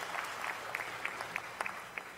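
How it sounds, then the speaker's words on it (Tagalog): House members applaud during a Philippine Congress session, a faint, steady patter of clapping with a few sharper claps standing out, distant and low in level. "Palakpak agad sila."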